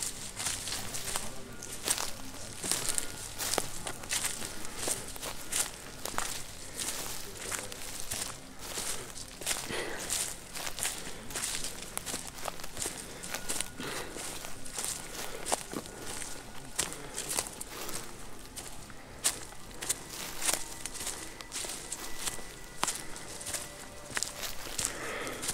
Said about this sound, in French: J'ai entendu des bruits de pas juste derrière moi.